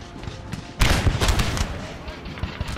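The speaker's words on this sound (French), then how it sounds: "par contre ce canon fait des dégâts de ce côté-là." Cannon artillery fire in the video game Napoleon: Total War: a heavy boom breaks out abruptly, followed by a dense, rumbling barrage of battlefield gunfire that continues loudly.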